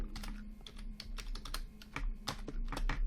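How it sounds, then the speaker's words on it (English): Quick, close keystrokes on a computer keyboard as a password is typed, an irregular run of crisp clicks with no talk. "We'll type the password again."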